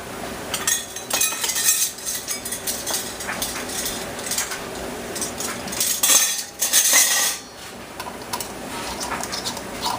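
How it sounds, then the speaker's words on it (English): Metal canning bands clink and scrape against glass jars as they are screwed on hand tight, a busy run of close, bright metallic taps and rattles with no talking. "now we're going to screw our bands on"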